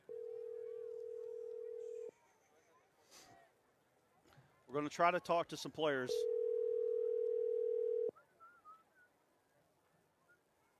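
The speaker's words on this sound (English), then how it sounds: "you're going to hear the phone go through" A steady telephone dial tone hums as a call is placed during a live broadcast of a Mineral Springs vs. Murfreesboro game, sounding twice for about two seconds each, with a voice talking between the two tones.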